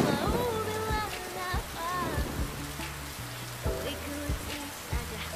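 Steady rain falls, a constant hiss of drops behind melodic tones and a few soft knocks.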